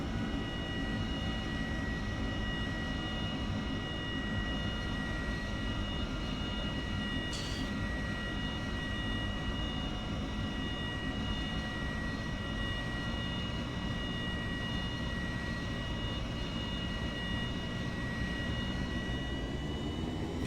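F/A-18 jet engine in the IL-2 1946 flight game throttling back during a carrier landing approach, a loud continuous roar with steady high whining tones that runs evenly throughout.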